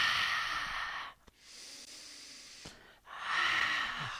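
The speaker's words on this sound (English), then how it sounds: "Inhale." Long audible breaths during a yoga breathing exercise: a strong inhale, a quieter airy stretch after a pause, then another forceful breath, close and without speech.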